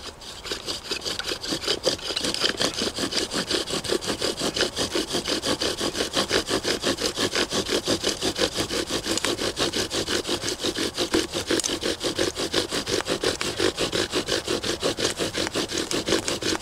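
A bow drill spins in a socket on a wooden log, a fast, rhythmic back-and-forth rasping of wood on wood that keeps a steady stroke for over fifteen seconds, loud and close.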